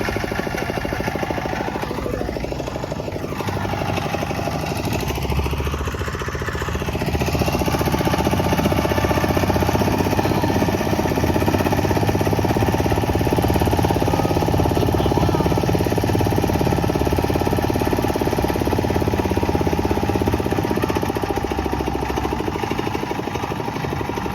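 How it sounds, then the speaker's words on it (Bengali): Fishing boat engines chug in a continuous loud mechanical drone along a coastal shore. The steady rumble runs unbroken throughout and grows slightly heavier partway through. "সব মাছ ধরা নৌকা দেখো কতগুলো মাছ ধরা নৌকা এখানে"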